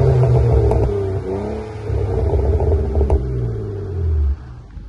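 Drift car engine revving over a heavy low rumble, loud and close, with the pitch climbing and falling through several blips before the engine cuts back to a steady idle near the end.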